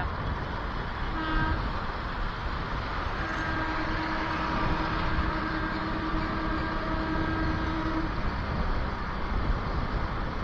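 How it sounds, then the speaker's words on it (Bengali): A Budge Budge local train goes by near Kolkata, a sustained rumble under a long horn toot that holds for several seconds, with a brief earlier blast, all set in a steady noisy background. "ট্রেন যাচ্ছে, বজবজ লোকাল।"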